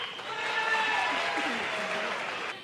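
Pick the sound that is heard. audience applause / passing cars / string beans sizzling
audience applause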